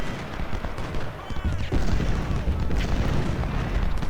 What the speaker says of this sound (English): And our Napoleon guns are opening up.